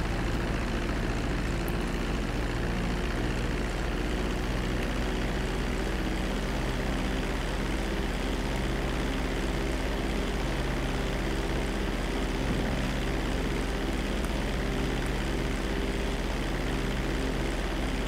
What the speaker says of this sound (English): I guess we're taking a plane ride to the border.